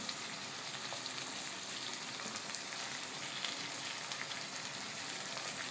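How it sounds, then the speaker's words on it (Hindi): Chopped tomatoes fry in a pan for a Chhattisgarhi idhar sabji, a steady soft sizzle and crackle that continues evenly throughout, with no talking. "फिर बाद में डाल देता हूँ कटे हुए टमाटर ला गलाए बर"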